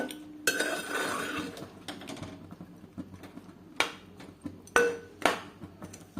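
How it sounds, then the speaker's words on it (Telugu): Metal cookware clatters in a kitchen as a lid goes onto a pot of mutton gravy, with several sharp clinks and ringing knocks spread across the stretch, close and moderately loud. "మూత పెట్టి ఒక 5 నిమిషాలు మగ్గిద్దాము"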